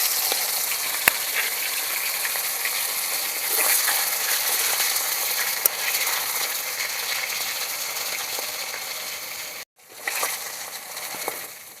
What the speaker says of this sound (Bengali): মাছ ভাজা হয়ে গেছে, মাথাগুলো তুলে নেব।